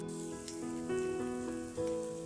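Food sizzles steadily in a hot pan as cooked rice goes in for capsicum rice, a continuous close frying hiss with a few brief louder bursts and no voices.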